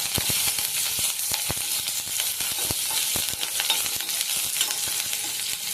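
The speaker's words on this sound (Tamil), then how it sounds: "வெந்தயம், கடுகு, காஞ்ச மிளகாய், கருவேப்பிலை இதெல்லாம் லைட்டாக போட்டுட்டு வதக்கலாம்." Mustard seeds, fenugreek, dried chillies and curry leaves sizzle and crackle in hot oil for a Tamil mor kuzhambu tempering, with steady close frying hiss and frequent sharp popping spits and stirring, no voices.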